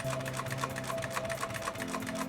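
A Singer 111w155 walking foot sewing machine stitches through several layers of denim, a steady, rapid mechanical clatter with an even rhythmic needle beat and a low motor hum, close and continuous with no talk.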